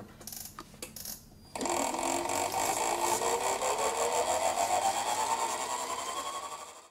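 A food mixer churns a chocolate Christmas-log mixture with a steady, loud mechanical whir. A few brief knocks come first, then the motor runs continuously for about five seconds before easing off.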